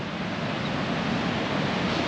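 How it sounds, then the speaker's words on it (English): Waves wash onto a small windy beach in a steady roar of surf, with wind buffeting throughout and no voices. "That's very windy at the moment. And yeah, this is the beach. Small beach."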